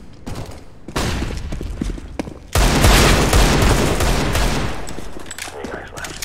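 A flashbang grenade bursts in Counter-Strike: Global Offensive, followed by a loud, sustained fusillade of rapid gunfire, with scattered shots before the blast and firing tapering off toward the end; a voice is briefly heard.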